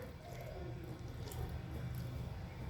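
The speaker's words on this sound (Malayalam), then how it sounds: "ഇനി ഇതിലേക്ക് ഒരു 1/4 കപ്പ് വെള്ളം ഒഴിച്ചു കൊടുക്കാം." Water being poured into a pan of kovakka (ivy gourd) for cooking, a steady trickling, splashing flow that holds for the whole stretch at close range, with no one speaking.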